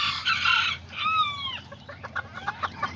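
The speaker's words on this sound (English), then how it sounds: "These are the Kikiriki roosters" Kikiriki roosters on a small breeding setup: a loud nearby crow rises and falls, preceded by a harsh squawk and followed by a run of short, rhythmic clucks.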